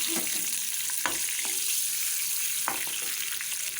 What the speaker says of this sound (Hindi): इस पर हम लहसुन का और ज़ीरे का बघार लगाएंगे